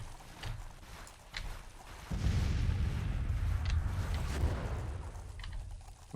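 Cannon artillery bombardment in the video game Grand Tactician: The Civil War, with quiet clicks giving way after two seconds to a sustained, heavy rumbling barrage of booms.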